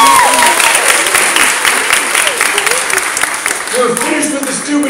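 Audience applause at a hypnotist show, a dense, steady wash of clapping that fills the room and holds loud throughout, with scattered voices and whoops rising over it.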